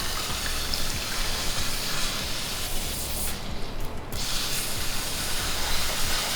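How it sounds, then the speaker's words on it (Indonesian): A spray bottle mists water over moss being readied for a vivarium, giving a steady, close hiss that runs almost unbroken, with a brief pause near the middle and no talk over it. "gue semprot"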